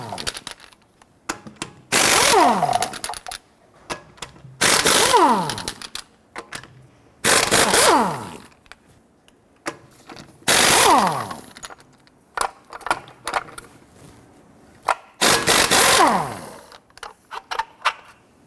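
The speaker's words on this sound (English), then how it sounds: "Using a 21mm socket, go ahead, loosen and remove your lug nuts." Lug nuts on a Nissan Frontier are loosened with a 21mm socket, giving several loud bursts of rapid ratcheting rattle, each a couple of seconds long, with quiet gaps between them and a voice heard faintly in between.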